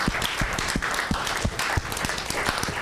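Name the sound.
church congregation applauding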